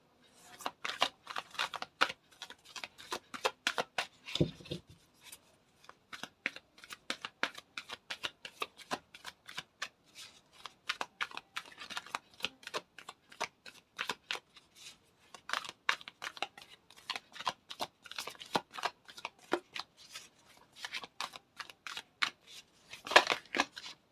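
Tarot cards are shuffled by hand in quick, crisp riffling bursts, repeated again and again with short pauses between, close and fairly quiet throughout.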